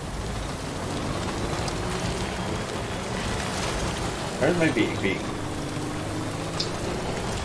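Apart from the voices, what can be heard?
rain in a video game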